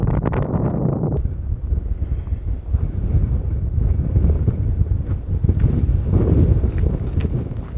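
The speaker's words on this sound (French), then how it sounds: "le vent commence à souffler de plus en plus fort et parfois les rafales sont tellement fortes" Strong wind gusts buffet the microphone while cycling in Iceland, a loud, rough, continuous roar that surges and dips in close, heavy bursts.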